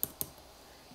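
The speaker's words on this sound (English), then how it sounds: "I'm just gonna hit R on my keyboard" Two quick, sharp computer keyboard key clicks close together at the start, then faint room quiet.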